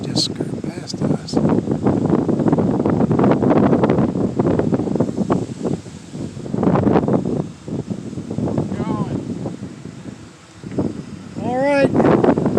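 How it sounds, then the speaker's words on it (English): Loud wind gusts roar in surging waves ahead of an approaching storm, with rustling and buffeting against the microphone, rising and falling over several seconds while a person talks intermittently. "One gust was pretty rough there for a little bit."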